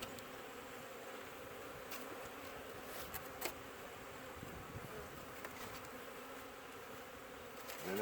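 Honey bees hum in a dense, steady buzz around a hive, a soft continuous drone with no talking.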